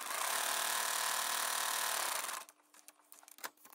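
A sewing machine runs steadily for about two seconds while stitching a foundation-pieced quilt block in fabric, then stops, leaving faint handling rustles and light clicks close by.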